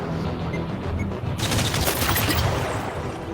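In the Iron Man VR video game, weapons fire at targets in a dense, continuous volley of rapid blasts. It starts partway in and stays loud, with a quieter stretch of game ambience before it.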